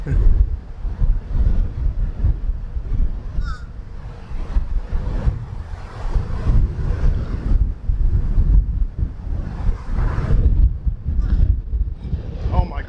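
Strong wind gusts buffet the microphone on a hilly golf course, a steady low roar that swells and eases throughout, with people talking over it.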